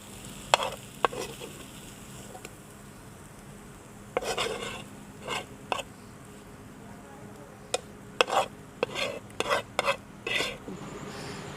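Chicken masala being stirred and fried in a pan gives scattered scraping and clattering strokes of a utensil against metal over a faint background sizzle, with quiet gaps between bursts.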